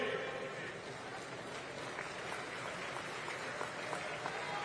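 A crowd at a political rally claps steadily in dense, continuous applause, a mid-distance wash of hands with no clear pauses across the few seconds.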